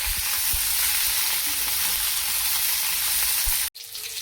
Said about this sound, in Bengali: ভাজবো ফুলকপিটাকে